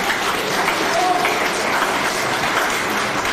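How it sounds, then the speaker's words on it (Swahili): A crowd at a Kenyan political rally applauds loudly and continuously for Raila Odinga, a thick even roar of clapping, with a voice faintly heard beneath it. "Mpigeni makofi."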